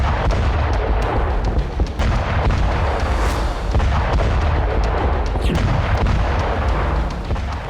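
Steady barrage of booms and thuds from a Ukrainian drone strike on a Russian army radar complex, dense and loud throughout with a few sharper cracks standing out, no talking.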